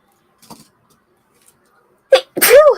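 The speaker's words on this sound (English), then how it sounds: "Don't worry, I didn't sneeze on the paintings." Close, loud sneeze preceded by a sharp inhale, after a few quiet rustles.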